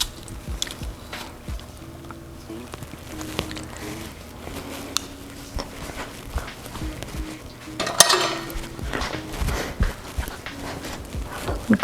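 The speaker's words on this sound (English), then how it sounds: "A clove of crushed garlic and mix that in there." Crushed garlic being stirred into extra virgin olive oil in a bowl, soft wet squishing and scraping with scattered clicks of a utensil against the dish, close and fairly quiet.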